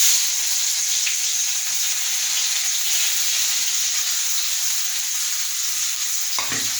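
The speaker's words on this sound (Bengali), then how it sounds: "পেঁয়াজ কড়াইতে আমার তেল দেওয়া হয়ে গেছে পেঁয়াজগুলো ফোড়নে ছেড়ে দেবো" Onions sizzle steadily and loudly in hot oil in a kadai wok, a fish curry tempering in progress, with a brief clatter near the end and no talking.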